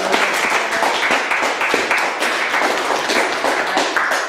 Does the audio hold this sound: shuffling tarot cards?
no